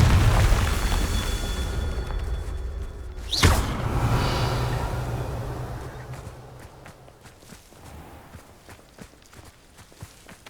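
Confringo fire spell from the video game Hogwarts Legacy: a single loud blast with a sharp impact, rolling into a fading rumble and crackle over low game ambience.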